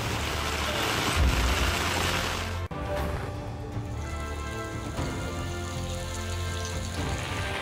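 Heavy monsoon rain pours down across the Konkan coast in Ratnagiri, Sindhudurg and Raigad, a loud, dense, continuous hiss that barely lets up.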